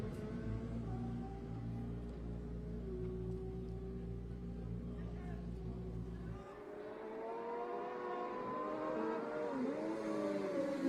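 Racing motorcycles in the Manx Grand Prix Senior race scream past at Glen Helen on the Isle of Man, a loud engine howl dropping sharply midway as one bike passes, then another rising and sweeping by.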